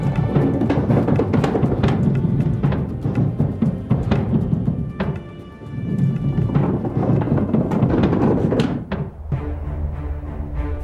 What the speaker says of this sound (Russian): Я специально положу это сюда, чтобы они лучше катались и громыхали.